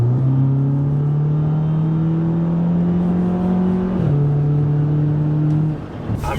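Turbocharged VW/Audi MQB engine on an Audi A3/S3 or VW Golf R revving loudly with a steady high drone that climbs, dips briefly, then settles before cutting off, close and alone.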